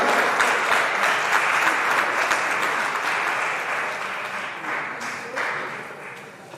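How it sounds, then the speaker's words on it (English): An audience at a school long service awards ceremony claps loudly and continuously, a dense wash of many hands that stays strong and then slowly tapers toward the end. "Please give her a round of applause."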